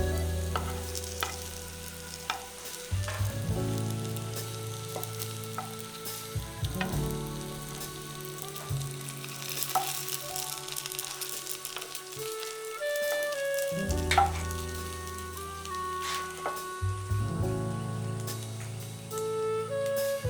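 Food frying in a pan to a golden brown, with a constant close sizzle and crackle. Background music plays throughout with changing chords, at times partly covering the sizzle.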